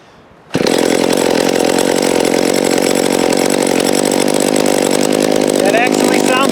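A McCulloch Timber Bear chainsaw engine bursts to life and idles loudly and steadily at close range after its first start-up, a constant buzzing drone with no pauses.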